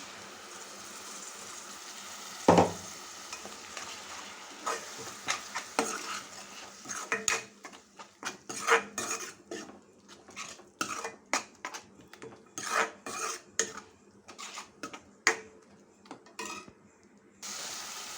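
Tomato paste stirred and fried in a pan for a mushroom curry, with a sharp clang at the start, then repeated scraping spoon strokes and clinks against the metal over a soft background sizzle.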